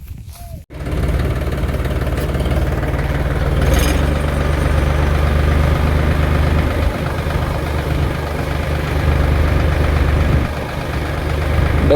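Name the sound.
tractor engine running while dumping trolley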